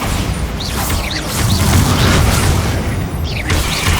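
Bombarda spell explosions in Hogwarts Legacy: a loud, continuous rumble of blasts and crashing impacts with booming low end, mixed with scattered whooshing swells from the game's spell effects.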